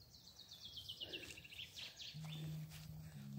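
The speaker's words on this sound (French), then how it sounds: "On entend les oiseaux," Birds chirp and trill in a fast descending series at a campsite, fairly faint and outdoors, with a low steady tone and background hum later.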